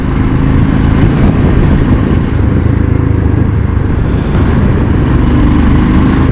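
The exhaust of a Royal Enfield Scram 440 motorcycle drones steadily while riding. The note is loud, dense and low, mixed with rushing wind, and holds unbroken throughout.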